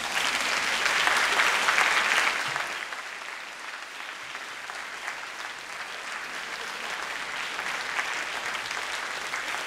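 Graduates at a university graduation ceremony clap for their families and friends, loud at first, then dropping to a lighter, steadier patter of applause that continues to the end.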